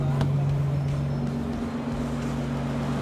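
A Nissan GT-R R35 with a 3.8-liter twin-turbo V6 idles nearby with a steady, low, even hum.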